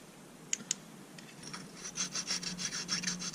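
A sharpening stone rubs down a slightly bulged flange surface on a clutch part, starting with two sharp ticks and then settling into quick, rhythmic rasping strokes at close range.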